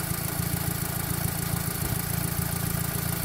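A 2005 VW Golf V GTI with the 2.0 TFSI engine and a lightly modified exhaust idles steadily nearby, a continuous low throbbing rumble with no voices over it.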